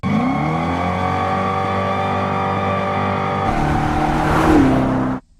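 A steady synthetic engine drone from a Dodge Charger electric car, layered tonal hum that shifts upward midway and swells briefly before cutting off.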